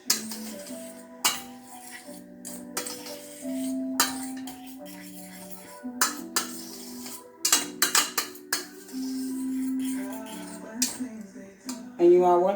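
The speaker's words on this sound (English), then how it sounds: "So you just stir it." A spoon stirs barbecue ribs with couscous in a metal pot, giving repeated scraping clinks and knocks against the pot's sides, close and fairly loud, with music playing throughout.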